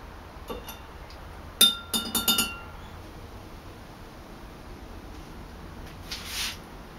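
Metal tongs clink several times against a glass while lifting a silver ring out of bicarb solution, a brief cluster of light sharp taps followed by a faint later rattle.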